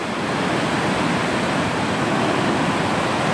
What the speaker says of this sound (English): the waves are crashing.